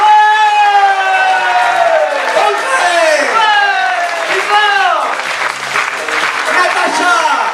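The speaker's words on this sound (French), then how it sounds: "Et je vous prie d'applaudir très très très fort Laetitia." Audience at an improv festival show applauding a performer. The clapping is loud and continuous, with shouting voices and whoops rising and falling over the crowd.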